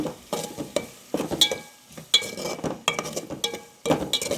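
Onions, green chilies and curry leaves fry in oil while a utensil stirs and clinks against the pan in irregular bursts, with a sizzle underneath and a few metallic taps, close up and with no voices.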